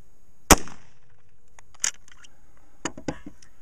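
Shotgun firing .410 shells for fire forming, heard as one sharp, loud close blast with a brief ringing decay, followed by faint mechanical clicks and handling noises.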